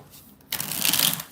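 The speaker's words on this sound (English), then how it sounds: "3 more shuffles" A deck of tarot cards is riffled once, a brief loud burst of crisp card flutter after a short quiet pause, close to the listener.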